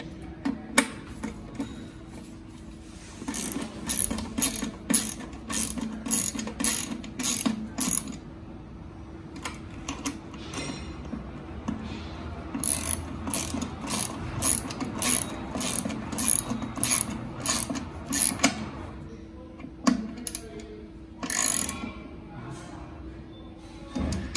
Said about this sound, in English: socket or Allen key and tighten the bolts